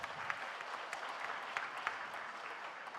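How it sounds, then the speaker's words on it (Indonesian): A church congregation at an HKBP Sunday service applauding, a soft, continuous spread of clapping from many hands, fairly distant and even, with no talk over it. "Boleh kita berikan tepuk tangan sekali lagi"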